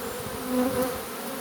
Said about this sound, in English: The bees are generally okay. I perhaps shook them a bit hard for being so close then,